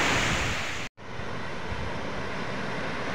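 Strong waves wash onto a beach at Agoo, La Union in light rain, a continuous dense roar of surf mixed with wind buffeting the microphone, broken only by a brief cut of silence.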